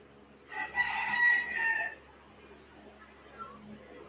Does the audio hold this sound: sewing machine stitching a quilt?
no